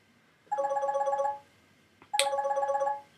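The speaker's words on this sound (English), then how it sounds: "Oh, that was my phone ringing." A phone ringtone in a hospital-set video game trills in two bursts, each a steady pulsing ring of about a second, separated by a short gap.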